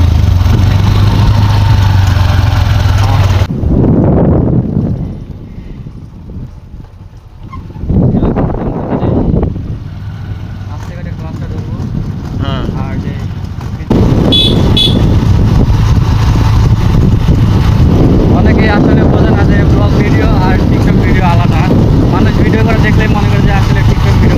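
A motorcycle riding home along a road from a petrol pump, its engine droning steadily with heavy wind buffeting throughout, easing briefly in the middle before returning loud, with voices talking over it.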